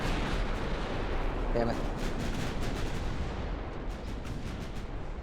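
Enemy naval guns fire on a battleship line in Ultimate Admiral: Dreadnoughts, a heavy rumbling barrage of booming salvos that rolls on for several seconds while a man mutters a short curse partway through.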